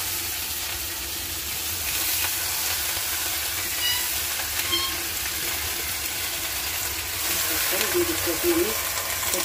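Malabar spinach leaves hitting hot oil with onion and chili in a pan, giving a steady, close sizzle and frying hiss throughout, with light stirring clatter and a brief louder spatter near the end.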